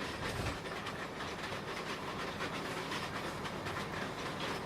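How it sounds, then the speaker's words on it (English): Bombardier M7 commuter train rolling past, a loud, dense rumble of wheels on rail with a rhythmic clickety-clack and airy hiss held steady throughout. "We have a Bombardier M7 towards my right."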